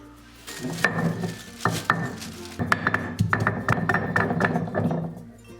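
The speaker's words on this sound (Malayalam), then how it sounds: "ഈ എടുത്തു വെച്ചിരിക്കുന്ന ചെറിയ പീസ് ഇഞ്ചി ഒന്ന് ചതച്ചു കൊടുക്കാം" Small piece of ginger crushed for a Kerala fish curry, heard as a run of sharp, close pounding knocks with clattering utensil sounds, in irregular bursts and then a steadier rapid series, with no talking.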